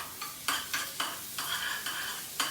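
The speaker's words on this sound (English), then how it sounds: "now I'll be adding onions. Onion also will be sauteed only for 10 seconds" Chopped onions sauté in a hot pan for a gluten-free pizza sauce, with short crackling sizzle bursts marking each quick stirring stroke.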